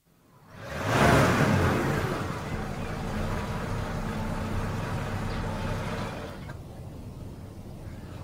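A car engine starts and revs in an old-time radio thriller, a loud surge of broadband rumble that swells quickly, then settles into a steady running drone for several seconds.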